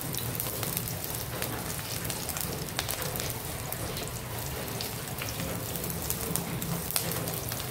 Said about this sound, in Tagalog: ingat kayong lahat kay naulan guys. Araw-araw naulan dito.